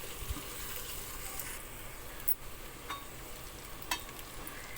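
Soft sizzling in a pan with occasional scraping strokes of a spoon as brinjal and potato curry with crushed peanuts is stirred, quiet and close, no voices.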